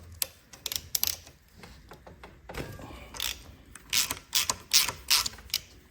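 Tools undo bolts on a damaged turbo with a loose front seal plate, giving scattered metallic clicks and ratcheting bursts at close range, sparse at first and then denser and louder.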